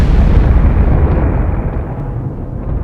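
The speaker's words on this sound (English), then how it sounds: "blasted by a violent explosion" A supernova explosion sound effect: a deep, continuous rumbling roar, loud and dense in the low end, slowly fading over a few seconds without any voice.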